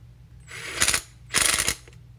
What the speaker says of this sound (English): I like to use the impact gun when I'm doing this, and the reason being is it's just gonna lock that in there nice and good.